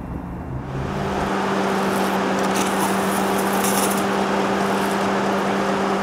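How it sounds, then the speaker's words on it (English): The headlight washers on a Bentley Mulsanne start with a brief click, then spray in a steady hiss of water that carries on for several seconds, close and fairly loud. "Another cool Mulsanne detail, that would be the headlight washers."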